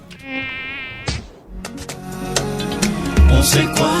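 Mosquito buzzing opens a malaria awareness radio ad, a close, thin whining drone that wavers for about a second before cutting off, followed by background music.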